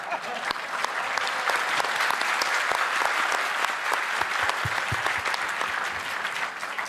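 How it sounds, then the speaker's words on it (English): Loud, dense audience applause at a public lecture event in India, crisp clapping continuing steadily for several seconds with a few louder claps near the front and light crowd murmur underneath. "इतना तो गांधी जी को भी applause नहीं मिली होगी."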